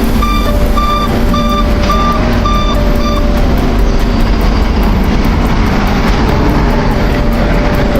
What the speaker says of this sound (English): Crane alarm beeps.